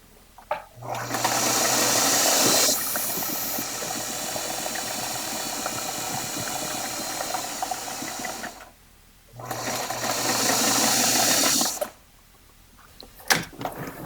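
A sewing machine runs in two long, loud, steady bursts while stitching a pocket on a dropcloth apron, with quiet pauses and a few faint handling clicks between runs.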